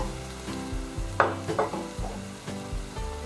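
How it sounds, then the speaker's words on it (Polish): Tomatoes and tomato paste hit a hot frying pan with softened onion, giving a steady sizzle with a few sharp crackling bursts and stirring scrapes, close and continuous with no talk. "dodaję na patelnię pomidory, wrzucam koncentrat pomidorowy"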